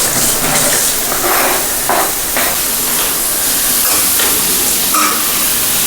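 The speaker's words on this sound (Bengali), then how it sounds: "পেঁয়াজটা ভাজছি।" Onions fry in a pan while chicken bhuna masala is cooked at an outdoor picnic, giving a loud, steady sizzle and hiss with occasional stirring scrapes and no talk.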